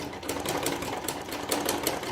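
Sewing machine running steadily while stitching a hem on a two-panel salwar, a fast continuous rattling whir with small pulses in speed, close and fairly quiet.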